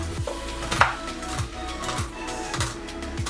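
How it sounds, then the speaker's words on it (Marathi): Pistachios, pumpkin seeds and sunflower seeds being finely chopped on a board for a sugar-free dry fruit vadi, with a series of sharp knife taps about every half second, close and moderately quiet, with no talking. "पिस्ता, पंपकिन सीड्स, सनफ्लॉवर सीड्स हे सर्व आपण आता बारीक कट करून घेऊयात"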